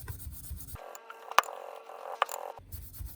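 A Scotch-Brite pad scrubbing a metal part from a diesel-powered water pump, a sustained rasping rub with a couple of sharp scratchy catches, close and fairly quiet, starting and stopping abruptly.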